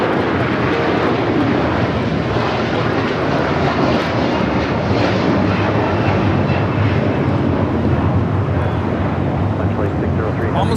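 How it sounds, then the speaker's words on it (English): A LATAM Airbus A330-200 takes off at Los Angeles LAX, its jet engines a loud, steady roar that fills the whole stretch without letting up. "taking off to Santiago, Chile on the A330-200"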